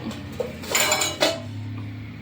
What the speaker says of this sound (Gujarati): હવે આપણે એને થોડી વાર ઢાંકી દઈશું.